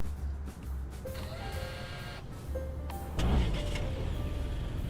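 A hybrid car in a roleplay video game starting up and idling: faint motor whirs, short electronic tones and a soft mechanical whine over a low steady hum, with no talking.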